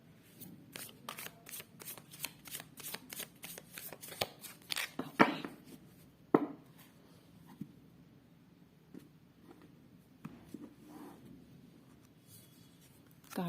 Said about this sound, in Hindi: So last shuffle and then I will pull out 5 cards for you.